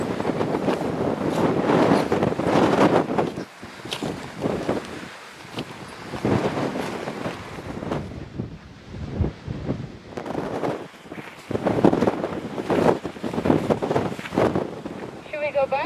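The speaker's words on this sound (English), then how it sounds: "It's extremely windy." Strong wind gusts buffet the microphone at high altitude in the Puna of Argentina, a loud rumbling roar that surges and drops repeatedly, with people talking intermittently underneath.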